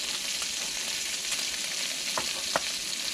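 Eggs fry in a pan on a camping gas stove outdoors, giving an even, soft sizzling hiss throughout with a couple of brief pops near the end.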